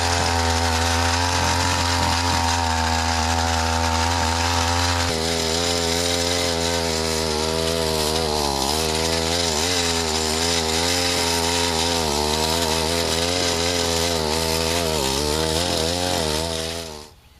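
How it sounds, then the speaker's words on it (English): A rototiller churns cement powder into soil down to about four inches for a homemade soil-cement slab, its engine droning loud and steady with shifting pitch from start to finish, no voices. "use the rototiller again to mix the cement into the soil"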